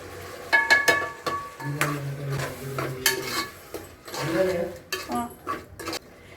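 Vegetables fried with ground masala for vegetable pulao are stirred in a metal pot, with repeated scraping and clanking of a spoon over a low sizzle, close and fairly loud.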